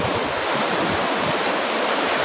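Strong sea waves pounding a shoreline in bad weather, a steady loud broadband wash of surf with no pauses and no voices.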